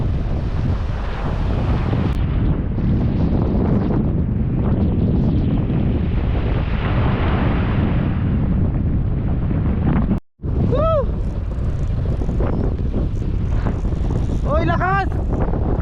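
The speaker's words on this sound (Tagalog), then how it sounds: "Nakahangin ah." Strong wind at sea buffets the microphone with a loud, continuous roar and splashing water around a small fishing boat out after trevally; a brief gap breaks the noise, and voices call out near the end.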